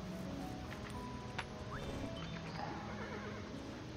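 A horse whinnies in the Kingdom video game, a short neigh standing out from a steady busy backdrop of game ambience and music.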